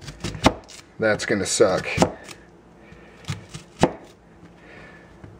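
Knife chopping ingredients on a cutting board while preparing shrimp scampi over linguine, a few sharp close taps in short bursts with a voice speaking briefly between them.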